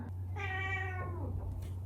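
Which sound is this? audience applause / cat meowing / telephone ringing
cat meowing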